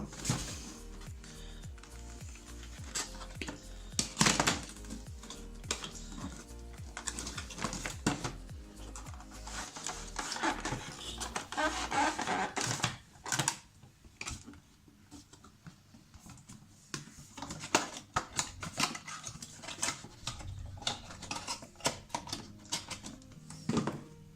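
Someone handles and pries open a PDP camo Xbox controller, producing a long run of close plastic clicks, taps and scraping rattles that come in irregular bursts with brief quieter gaps.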